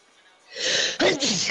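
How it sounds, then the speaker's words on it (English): A single close, sudden human sneeze, beginning with a short sharp intake and bursting into a loud explosive release with a brief trailing tail. "I gotta sneeze and there's people."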